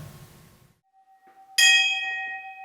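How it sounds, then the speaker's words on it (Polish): A small monastery bell at the Discalced Carmelite monastery in Zamarte is struck once after a brief hush. It rings out bright and clear, then its tone slowly fades along the corridors. "Rozlegający się po klasztornych korytarzach dźwięk dzwonka wzywa wszystkich na modlitwę."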